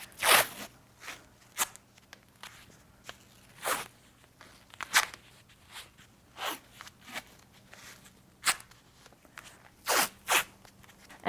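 Athletic tape is torn off the roll again and again while an ankle is wrapped, producing about a dozen sharp, short ripping bursts at uneven intervals, quiet and close, with no talking.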